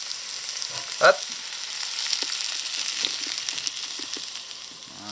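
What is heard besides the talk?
salmon frying gently in a pan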